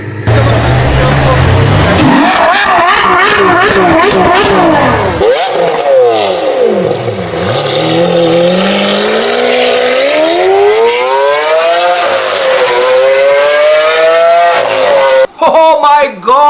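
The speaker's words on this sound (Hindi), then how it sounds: "6 cylinders this side, 6 cylinders this side, forming a V on a single crankshaft, and my god, the sound, it's heavenly" A naturally aspirated V12 engine, twelve cylinders in a V on a single crankshaft, revs hard and loud, its pitch climbing and falling through repeated sweeping rises over many seconds.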